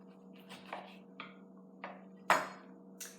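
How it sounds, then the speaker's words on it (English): A knife cuts through a cucumber lengthwise on a board, giving a few separate soft thuds and scrapes spaced about half a second apart, with one sharper, louder knock near the end, all over a steady low hum and with no talk. "Cut it in half long ways."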